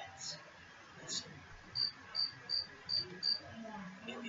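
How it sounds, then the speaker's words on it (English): A cricket chirps softly outside a window at night in a quick run of five short, evenly spaced trills against a quiet background. "it is a cricket chirping right outside our window"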